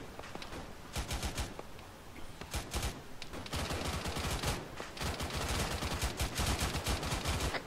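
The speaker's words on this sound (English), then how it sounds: "That was effective fire somewhere to the left." Sustained gunfire in a military video game firefight, with dense overlapping bursts and volleys of shots at varying distances, some near and loud, others farther off, continuing throughout without speech.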